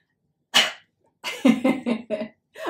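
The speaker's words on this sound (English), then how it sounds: "just give me a cough" A single sharp cough close to the microphone, then after a short pause a quick run of four or five coughs in a row.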